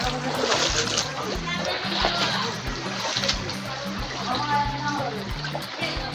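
Splashing and sloshing through knee-deep floodwater in a neighbourhood street after three days of rain, with steady churning water under voices talking.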